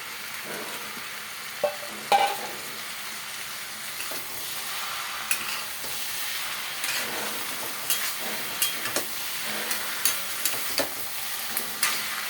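Food stirred in a pan on a gas stove, with a steady sizzle under scattered scraping clicks of the spoon against the pan, close and moderately quiet throughout.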